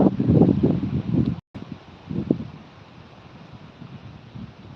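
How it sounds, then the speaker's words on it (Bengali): Stormy, gusty wind from a deep depression in the rainy season, buffeting close to the microphone. Heavy low rumbling gusts in the first second and a half give way to a quieter, steady rush. "দেখুন কীভাবে হাওয়া দিয়েছে ঝোড়ো হাওয়া"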